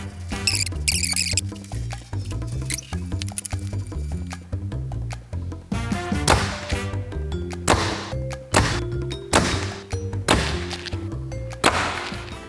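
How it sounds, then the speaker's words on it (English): A Mathews compound bow shot several times at close range, each release a sharp thump and twang, with string and limb ringing and clunks of handling between shots, no talking. "All right, so we shot the bow a few times."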